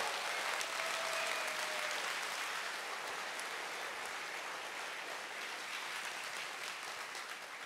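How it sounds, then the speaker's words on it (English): Steady applause from a convention opening-ceremony audience for the registration team, a continuous dense hiss of many hands clapping at a distance, even in level and fairly faint, with no talking over it. "our registration team deserves a round of applause"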